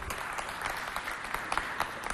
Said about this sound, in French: On applaudit pour le directeur,